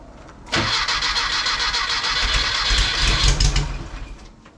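Rebuilt car motor with only the 1-2 side firing, cranking and catching into a loud, rough running roar that holds for about three seconds before dying away.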